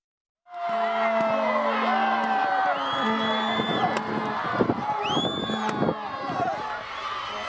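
A packed stadium crowd roars and cheers at the 2021 rugby league grand final between the Eels and the Gubuli Sharks, with loud, continuous shouting, whoops and whistles throughout.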